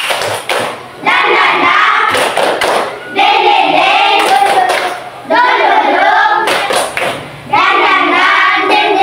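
A group claps out the tepuk semangat routine in bursts of rapid rhythmic claps, loud and close, with breaks between phrases where voices chant along.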